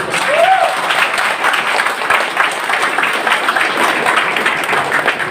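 An audience at a business presentation applauds loudly and continuously, a dense, close wash of clapping from many hands with a faint voice briefly audible at the start.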